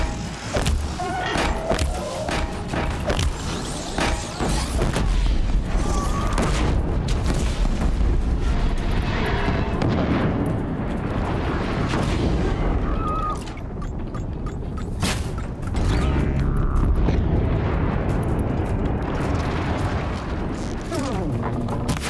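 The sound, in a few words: sticky bombs exploding in the video game Horizon Zero Dawn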